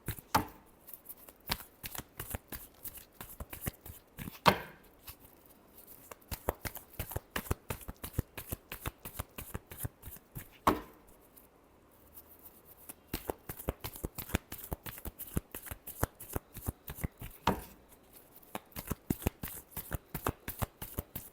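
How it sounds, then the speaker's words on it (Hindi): Tarot cards shuffled by hand in quick, repeated riffles, crisp close-up flicking in a steady rhythm with a few brief pauses, and no talking. "लास्ट शफल देखते हैं।"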